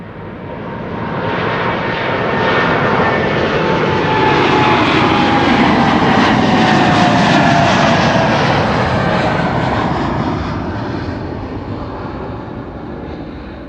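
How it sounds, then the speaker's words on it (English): A DHL Airbus A300 takes off at Amsterdam Schiphol, its jet engines building into a loud, sustained roar that swells and peaks midway before slowly easing off as the aircraft moves away. "The DHL A300. Will it still be going to 18 left or will it already be taking off from runway 24 shortly?"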